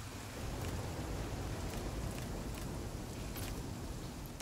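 Steady, even rain hiss from the survival game The Flame in the Flood, a soft continuous wash that holds at one level throughout, with a few faint brighter patter bursts and no voices.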